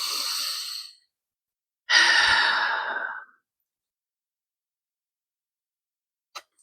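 Two long breaths, a soft exhale and then a loud, close, drawn-out deep breath lasting over a second, with silence between and after, ending in a tiny click.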